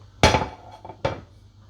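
A cake baking mold lifted off and set down, giving two sharp metallic pan clatters about a second apart, close and distinct with a faint rattle between them.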